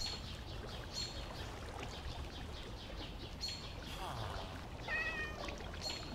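Kittens in Minecraft meow in short, high mews scattered over several seconds, heard faintly beneath a continuous game background.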